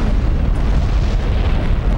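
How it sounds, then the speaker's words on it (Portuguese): Atomic bomb detonation like the one over Hiroshima, a loud sustained rumbling roar of low, dense noise that holds steady for a couple of seconds with no voices. "Quando a arma é detonada"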